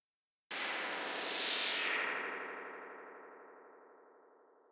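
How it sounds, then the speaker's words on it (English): Experimental bass made in Ableton with a Serum phaser and short echo: one sustained, distorted swelling tone that hits abruptly, holds loud with a swirling phased texture, then slowly fades out. "there's Serum Effects with phaser"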